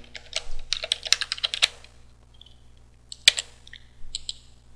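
Keystrokes on a computer keyboard as a root password is entered, a quick burst of close clicks, a pause, then a few more taps including one sharp key press, with no talking.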